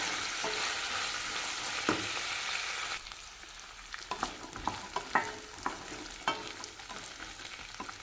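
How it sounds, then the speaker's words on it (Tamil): Peanuts fried and stirred in a pan for a Tamil kuzhambu: a steady close sizzle, then after a few seconds a fainter fry under repeated scraping stirs and clinks of a utensil. "வேர்க்கடலை நல்லா வதக்கிக்கலாங்க."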